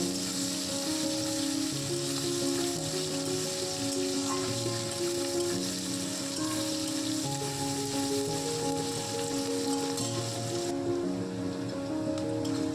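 Sliced onion stir-frying in a pan gives a steady, close sizzle that holds evenly throughout with no talk.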